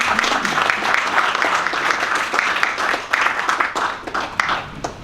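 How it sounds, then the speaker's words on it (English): An audience at a Knights of the Southern Cross talk event applauds the speaker, a sustained crowd of hands clapping that stays loud and dense throughout, with no voices on top. "Can we have a round of applause for Colin Patterson?"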